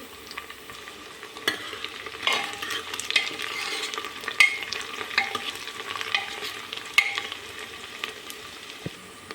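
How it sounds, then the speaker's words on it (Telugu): Onion with curry leaves and green chillies fries in a pan for a mutton and chicken liver dish, giving a steady close sizzle broken by scraping stirs and occasional clinks, with no voices. "ఉల్లిగడ్డ కొంచెం ఉడికిపోయింది కరివేపాకు ఇంకో మూడు పచ్చిమిరపకాయలు"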